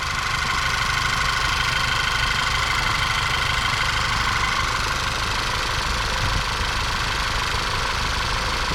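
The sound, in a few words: VW MK6 GTI engine running after new spark plugs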